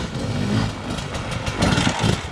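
A Sherco 250SE dirt bike engine runs steadily nearby, a mid-pitched buzzing drone that swells slightly with throttle blips toward the end, with no voices.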